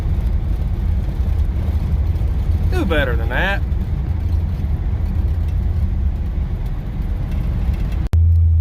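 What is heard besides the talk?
1956 Chevrolet Bel Air V8 PowerGlide driving on the road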